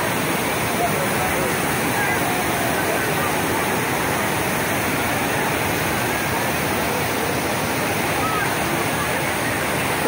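Tugunan Falls in Prosperidad, Agusan del Sur, pours down in a steady, dense roar of falling water that stays loud and even, close by, with no pauses and nobody talking.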